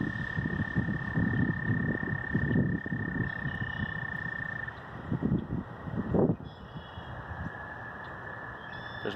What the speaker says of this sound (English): That is the most ghostly frog I've ever heard in my life.